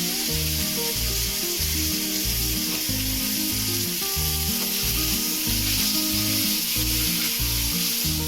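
Sliced onions and salted tomatoes sauté in a pan for chicken noodles, a constant close sizzle over which a steady rhythmic thumping pulses throughout.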